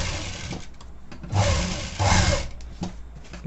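A sewing machine stitches a designer blouse neck in short, uneven runs, its whirring motor swelling twice into louder bursts between quieter pauses, close and alone with no voices.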